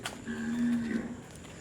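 A single cow moos once, a steady low drawn-out call lasting about a second, heard fairly close against quiet background noise.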